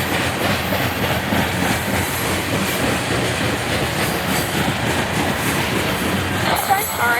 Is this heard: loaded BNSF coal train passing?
yes